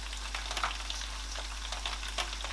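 Fish seasoned with Maggi cubes frying in a pot, a close, steady sizzle and crackle with small popping bursts over a constant low hum.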